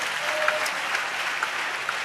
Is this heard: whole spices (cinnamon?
no